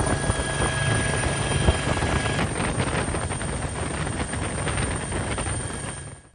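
A Bell 412 helicopter drones steadily with a chopping rotor beat, loud and continuous, then fades out abruptly at the end.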